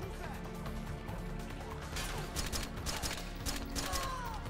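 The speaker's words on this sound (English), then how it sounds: "Wait, who's shooting me?" Faint gunfire in Metal Gear Solid 4 strikes at the player: scattered bursts of shots and impacts crackle quietly over a low, constant game backdrop.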